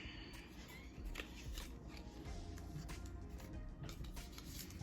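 Paper packaging being creased, folded and wrapped tightly around a bar of handmade soap, giving continuous close crinkling and rustling with scattered sharp crackles, no talking.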